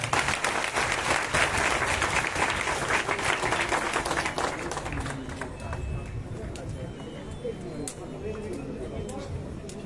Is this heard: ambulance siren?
no